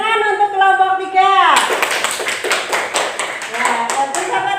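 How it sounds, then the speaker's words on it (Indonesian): A voice speaks briefly in a classroom, then a group of students breaks into lively clapping that continues to the end. "Tepuk tangan untuk kelompok 3."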